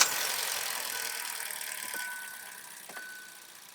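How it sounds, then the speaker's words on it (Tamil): A Kia Sonet's 1.2 L petrol engine idles just after starting, heard as a quiet, steady hum with a faint high whine and a couple of small ticks, with no one speaking. "என்ஜின் ஐடல்ல எந்த அளவுக்கு சத்தம் வருது அப்படின்றத உங்களால கேட்க முடியும்னு நினைக்கிறேன்."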